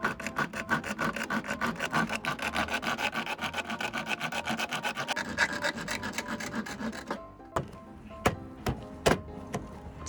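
Material is cut by hand with a saw during solar panel wiring work inside a Nissan Caravan camper van, a fast steady rasping stroke rhythm close by, then a pause and a few sparse taps and scrapes.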